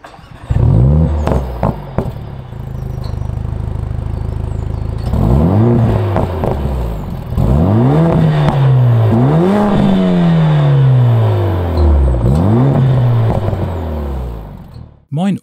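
A modified exhaust on a 420 hp Mercedes CLA45 S AMG with quad tailpipes revving hard several times, deep rising and falling roars with sharp throttle blips, loud and close.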